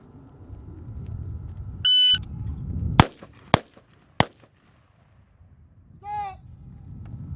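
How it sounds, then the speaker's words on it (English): Three sharp M4 rifle shots crack out on an outdoor firing range, spaced about half a second apart, loud and close, with a brief electronic beep before them and another after. "shooters will fire 2 rounds center of mass"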